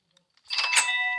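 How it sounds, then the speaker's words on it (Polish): A doorbell chimes inside a player's house in the video game Akulanderia, a single bright ringing tone that sustains and slowly fades after a brief quiet lead-in. "ja znalazłam właśnie taki dzwonek. Słuchajcie go."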